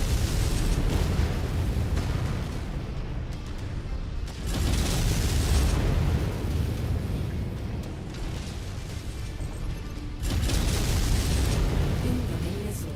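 Missile explosions in the mech combat video game MechWarrior 5 boom in loud, sustained rumbling bursts, with fresh blasts hitting around 4.5 and 10 seconds amid continuous heavy roar.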